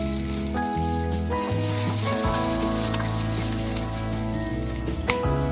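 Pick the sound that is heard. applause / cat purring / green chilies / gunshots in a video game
green chilies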